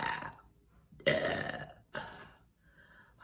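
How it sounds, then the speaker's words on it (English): A person lets out a few close burps, one short, then a long loud one, then another, with quiet gaps between. "I have that one last burp that needs to come out"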